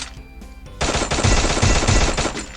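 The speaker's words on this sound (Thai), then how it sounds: "เราลองไปทดสอบยิงกันเลย" XM8 rifle gunfire in the mobile game Free Fire, a loud, close, continuous automatic burst that begins after a few quieter shots and keeps up a rapid rhythm.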